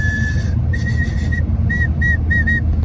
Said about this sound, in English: she gave me a wiener whistle right there